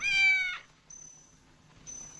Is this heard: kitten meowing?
yes